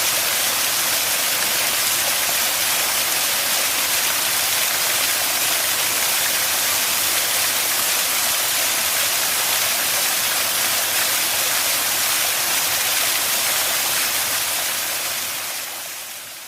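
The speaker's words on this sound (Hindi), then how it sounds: "इनकी आवाज़ से बहुत काफ़ी सुकून सा मिल रहा था, पानी के जो है ना गिरने की आवाज़ से" Fountain and waterfall water pouring down at the Hanging Gardens in the UAE at night, a loud, dense, steady rushing roar throughout that fades out at the very end, with no talking.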